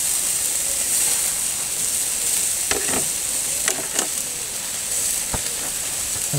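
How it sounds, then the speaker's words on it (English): Two whole plaice on a barbecue grill give a steady close sizzle and hiss, with a few light clinks and scrapes from grill tools. "So now we're going to put our 2 whole plaice on the grill"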